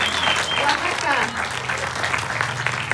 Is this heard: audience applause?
yes